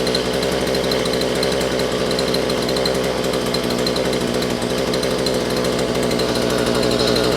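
A small gas engine runs steadily at idle, a close rattling drone that holds the same pitch and level throughout, with no voices.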